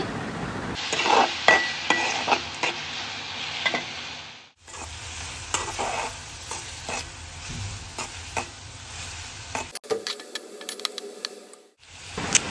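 Small potatoes and eggs get stirred in a hot cooking pan with salt, a constant sizzle of frying broken by repeated scraping and clinking of the spatula, with brief pauses between bursts of stirring.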